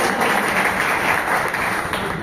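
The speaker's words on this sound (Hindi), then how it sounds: "इसके लिए हम खुद अपने लिए ताली बजा सकते हैं" Members of a railway pensioners' association meeting clap together, a brief, dense wash of applause filling the room without pause.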